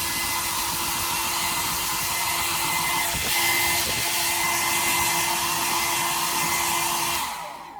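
A cheap £8 hairdryer blows steadily and loudly at close range with a constant broadband whoosh and a faint tonal hum, a brief bump midway, before it is switched off and fades near the end.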